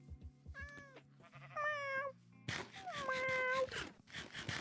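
Minecraft in-game cat meowing several times in a row, each meow a clear, drawn-out tone, layered over busy background game sounds and a faint voice.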